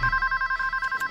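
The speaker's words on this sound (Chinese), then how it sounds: "却接到老奎的电话" A telephone rings with a rapid electronic trill, about ten evenly spaced pulses in quick succession, loud and close and steady throughout.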